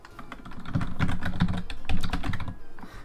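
Rapid, irregular clatter of keys on a computer keyboard, typed in short bursts while entering a bus route name in a city bus management game, close and clear with no talking.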